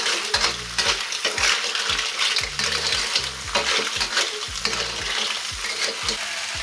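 Clams stirred in a hot wok for Chinese clams in black bean sauce, a steady loud sizzle of frying with repeated scraping and clattering of the spatula and shells against the metal.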